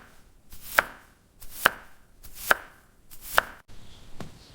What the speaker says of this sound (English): I cut the vegetables.